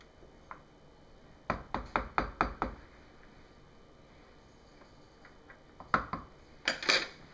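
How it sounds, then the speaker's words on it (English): A spoon knocks against a container while mixing cold-process lemon essential oil soap batter, giving a quick run of about half a dozen sharp taps, then a pause and a few more clinks, close and crisp in a quiet room. "take my spoon and go in here a little bit and do a quick little mix"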